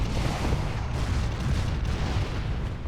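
LRM missile impacts in MechWarrior Living Legends roll as a dense, continuous rumble of booming explosions, loud and sustained throughout with no clear gaps between blasts.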